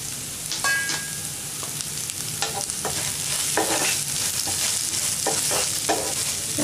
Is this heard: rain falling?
no